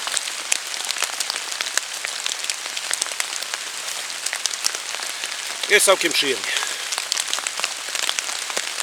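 Steady rain patters through a wet forest, a dense hiss of drops falling on leaves throughout, with someone speaking briefly near the end over the downpour.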